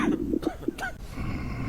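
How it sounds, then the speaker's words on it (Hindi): An infected person coughing in a zombie border patrol quarantine-zone video game, a short cluster of quick, raspy coughs and throat sounds, faint and close. "ये छींकेगा, हिचकी लेगा, खांसी ले रहा है"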